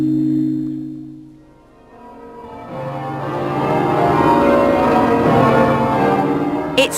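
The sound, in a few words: church bells ringing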